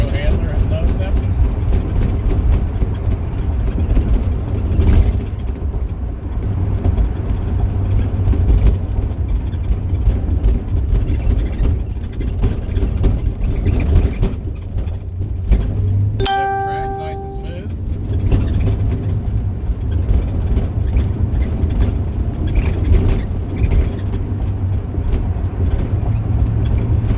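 A 1978 Ford Mustang Monroe Handler cruises along with a steady, loud engine drone and road rumble throughout, with a brief tonal chime or whistle midway.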